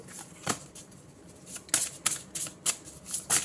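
Tarot cards shuffled by hand in a quiet room, a string of soft papery riffles and slaps arriving in irregular bursts, close and fairly faint.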